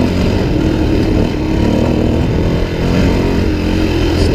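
Suzuki DRZ400e enduro motorcycle ridden hard over a rough, choppy rocky trail, its engine a loud, steady close-up drone with small throttle surges and no voices.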